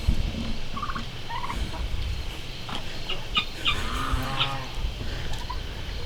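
Several turkeys gobble in bursts on a farm, with overlapping calls standing out over steady background noise from the flock.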